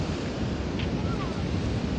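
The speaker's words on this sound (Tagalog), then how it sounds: "malakas pa yung alon" Strong ocean surf roars at a San Juan, La Union beach as a dense, steady wash mixed with wind buffeting the microphone, with no clear break between waves over two seconds.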